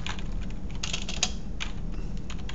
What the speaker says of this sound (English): we type equals VLOOKUP